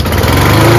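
A small auto-choke lawnmower engine, left sitting two or three weeks after repair, runs steadily at close range with a strong, even drone and no break in the sound.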